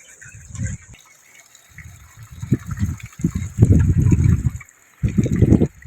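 Water gushing from a village borewell in loud, close surges that start and stop several times, with brief quieter gaps between bursts.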